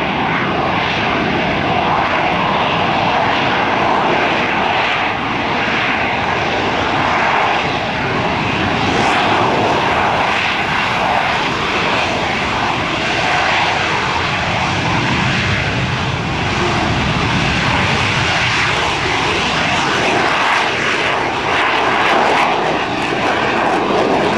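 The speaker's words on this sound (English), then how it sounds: "The landing you're seeing from the left is an RVL, a rolling vertical landing we use for small field operations." An AV-8B Harrier II jet roars loudly and continuously as it makes a rolling vertical landing at an airshow, a dense, sustained engine blast with no talk.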